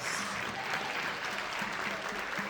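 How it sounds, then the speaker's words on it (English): A crowd gives continuous applause for a college cheer team celebrating a national title, a dense, even patter of many hands heard at a moderate distance. "Let's give them a round of a hand real fast."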